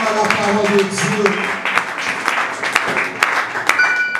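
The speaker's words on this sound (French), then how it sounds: "Est-ce que quelqu'un peut acclamer la parole de Dieu?" A church congregation applauding during a sermon, a dense patter of clapping with loud voices mixed in throughout.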